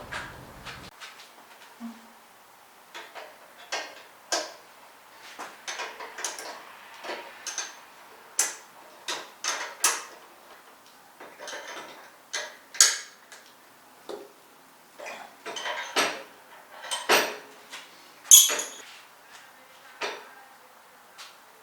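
A wrench working the fork nuts on a Coleman BT200X mini bike, heard as a long series of light metallic clicks and ratcheting ticks in uneven bursts, close and fairly quiet.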